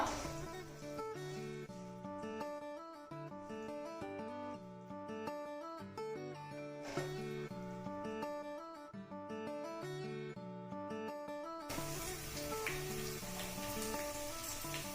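Finely chopped garlic, five cloves, with a spoon of cumin frying in a pan for Telugu ulavacharu (horse gram soup). A steady sizzle sits under loud music and swells noticeably stronger over the last few seconds.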